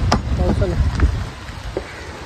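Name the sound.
rain falling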